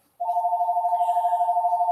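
A telephone rings with an unwanted solicitor call, giving a steady electronic ring tone that starts abruptly and holds on loud and close with a fast warbling pulse, no voices.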